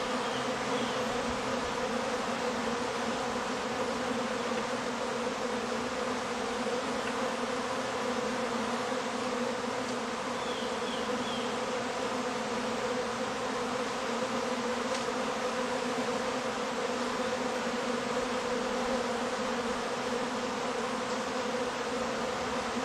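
Many bees flying in and out of backyard hives, a dense, steady, close buzz with no pause, heard alone.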